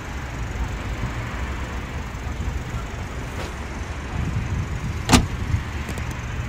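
The trunk of a 2020 MG5 sedan opening electronically, a brief mechanical click and release heard near the end over a steady low hum of ambient noise.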